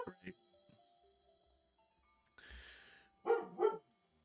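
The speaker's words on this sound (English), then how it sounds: "I hear the little dog barking" A small dog barks a couple of times near the end, sharp and close, after quieter stretches with a short hiss and other faint sounds; a voice speaks briefly at the start.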